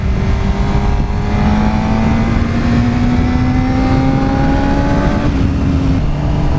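A Suzuki GSX-R600 with a Yoshimura exhaust revs hard at full throttle on an open road, its loud, close engine note climbing steadily in pitch through a long pull before dropping at a gear change.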